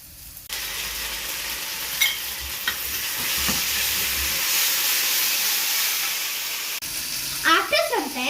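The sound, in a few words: Szechuan sauce splattering in a hot frying pan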